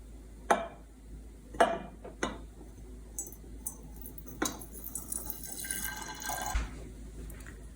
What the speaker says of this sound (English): All right, so I'm just gonna pour this back in the bottle.